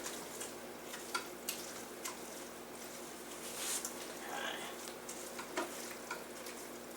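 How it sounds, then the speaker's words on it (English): Butter is stirred as it melts in a Ninja Foodi pot for mac and cheese, a soft continuous sizzle with light scraping and stirring strokes throughout, fairly quiet and steady with no talking. "Then I'm going to do a little more stirring. Get that butter throughout and melting."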